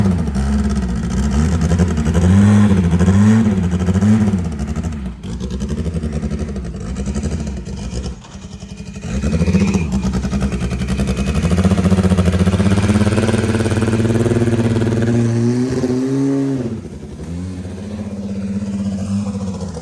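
A car engine runs steadily close by, with rising revs and swells in pitch over about twenty seconds, a brief dip midway, then settling back toward a lower idle near the end.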